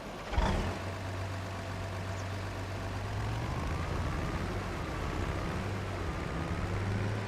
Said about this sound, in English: Nice engine sounds there.